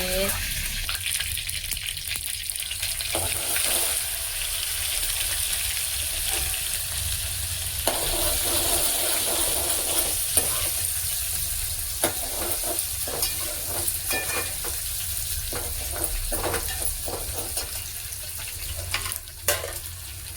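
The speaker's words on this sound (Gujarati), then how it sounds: "તેલ ગરમ થઈ ગયું તો લીમડો નાખી દીધો છે. આદુ છે, લસણ છે, લીલા મરચાં છે." Curry leaves, ginger, garlic and green chillies sizzling in hot oil for a Gujarati bitter gourd dish, a loud continuous hiss with scattered pops and spatter, close up, with no one talking.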